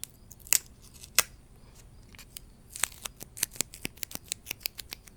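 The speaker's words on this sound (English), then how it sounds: "the first thing that I'm going to do is peel this little pumpkin sticker off" Small crackling and tearing snaps come from peeling a little sticker off a small pumpkin, close and quiet, in irregular bursts that quicken toward the end.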